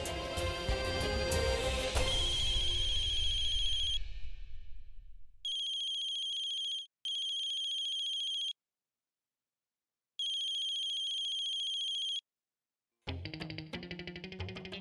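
A telephone ringtone plays over a fading music cue, then rings alone in steady, loud bursts separated by short silences before music returns, in a dubbed TV drama.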